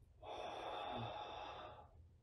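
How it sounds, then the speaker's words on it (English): A single slow, deep breath during a gentle hand-exercise stretch, a soft airy exhale lasting under two seconds, heard close and quiet with no talking. "breathe in, breathe out, one more time"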